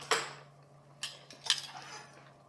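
A live crab is chopped with a knife on a cutting board: three sharp, separate chops land about half a second apart, each a crisp clack over a low steady hum.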